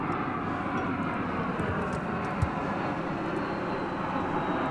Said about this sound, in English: we have an arrival coming in here from Houston.